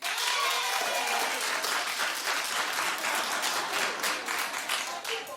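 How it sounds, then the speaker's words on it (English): Studio audience of a daytime talk show clapping, a loud, sustained burst of many hands that holds steady for several seconds before easing slightly at the end. "Clap if you watch The Voice."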